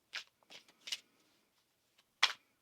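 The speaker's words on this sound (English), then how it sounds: "One more shuffle now." Tarot cards are shuffled in short, crisp riffling bursts, about four quick flurries close together and then a final one after a pause, close to the microphone in a quiet room.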